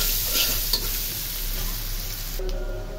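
Onions cook in oil left over from frying hilsa fish, making a loud, steady, close sizzle that holds continuously with little variation, and a low hum sits underneath.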